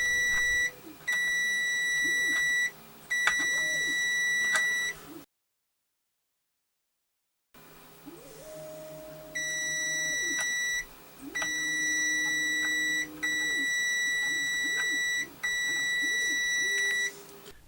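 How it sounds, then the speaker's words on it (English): A multimeter in continuity mode beeps while probing pinholes against binding posts on a homemade digital mini-lab, producing steady high tones lasting one to two seconds each, repeated with short gaps and a silent stretch partway through. "We should hear a beep from the multimeter indicating that there is good continuity between each pinhole and its corresponding binding post."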